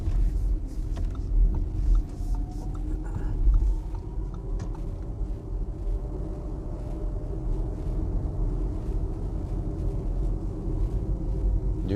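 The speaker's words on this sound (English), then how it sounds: "Do you guys hear that motor sound?" Audi e-tron 55 Black Edition electric SUV driving in one-pedal mode, with a faint whine from the electric motor that rises and falls over steady low road and tyre rumble inside the cabin.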